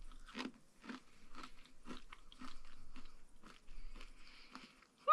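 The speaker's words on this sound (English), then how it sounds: "when you chew it, it just kind of like crumbles and melts in your mouth" Crisp, crunchy chewing of freeze-dried bacon close up, a steady series of bites crackling roughly twice per second with no talking.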